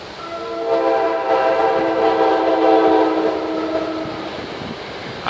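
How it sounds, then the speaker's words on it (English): Train rolling past near a train station, its sustained horn-like tonal blare swelling over a few seconds and easing off, fairly close and loud, with no talking. "I didn't even know there was a train station around here."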